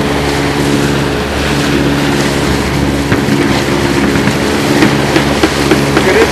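Motorboats cruise through choppy four-to-five-foot seas during the 2012 Gasparilla boat parade, heard as a loud, constant engine drone mixed with rushing wind and water noise, close to the microphone.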